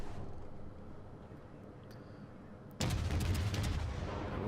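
Pensacola cruiser main guns firing armor-piercing rounds in World of Warships, a sudden loud booming salvo after a quiet stretch of ambient sea noise, with the roar trailing off.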